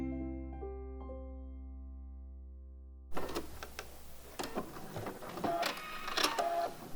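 A smooth, steady tonal hum gives way to the busy mechanical whirr and clatter of a sewing machine running its foot over a fur seam on a fur jacket, close and fairly quiet.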